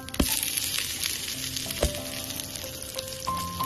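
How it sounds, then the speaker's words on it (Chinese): A sesame paste flatbread, brushed with oil, fries in a preheated, oiled electric pan under a lid over medium heat. It gives a steady, close sizzle, with a few sharp pops and light clatter. "擀好的饼放到提前预热刷油的电米秤里，里面多放一点食用油，在饼的表面也刷一层油，盖上锅盖用中火烙"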